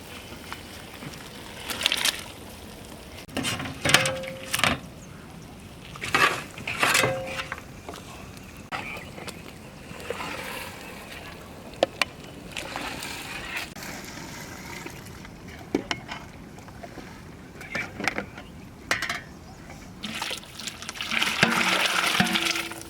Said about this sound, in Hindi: इसको हम लोग पानी से अलग करेंगे